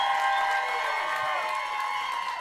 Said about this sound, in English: Start clapping for Josh Johnson